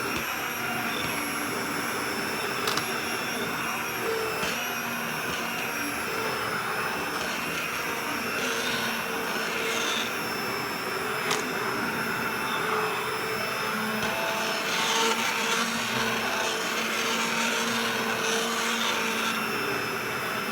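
A Keylitos 5-in-1 handheld immersion blender runs steadily at close range, blending a split pea soup with carrots, celery, onion and garlic; the high motor whine holds without a break throughout.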